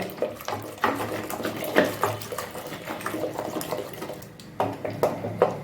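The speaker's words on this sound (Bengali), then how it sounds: "এইভাবে আমি ডালে কাঁটা দিয়ে নিচ্ছি।" Lentil dal being mashed with a dal masher in a pot, giving repeated wet, clattering knocks and sloshing strokes in an irregular rhythm, close and moderately quiet with no talking.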